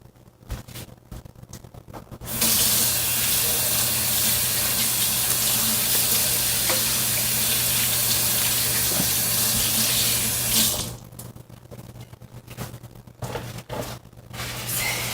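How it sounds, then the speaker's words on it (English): Tap water runs loudly into a kitchen sink for about eight seconds during handwashing, a steady close hiss and splash that starts abruptly and cuts off when the faucet is shut. "let me wash my hands"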